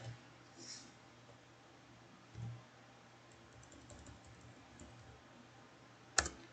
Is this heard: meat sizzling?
no